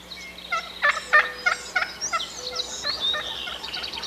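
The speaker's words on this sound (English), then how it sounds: "Let's go to some wild hen footage of a hen doing a tree call." Wild turkey hen giving a soft tree call: a string of short, muffled clucks and yelps in uneven bursts over about four seconds, fairly close but quiet, with no talking.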